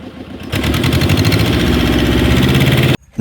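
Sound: fishing trawler engine running at sea

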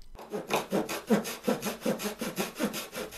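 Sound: hacksaw blade in wood block cutting fret slots

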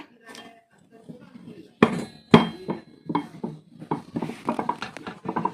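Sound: pressing dough in a roti press machine

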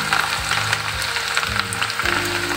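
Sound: garlic cloves sizzling as they fry in oil

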